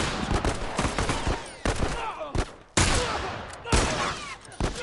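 Rapid video-game gunfire cracks out in a close, loud series of sharp shots in several bursts, with little pause between them.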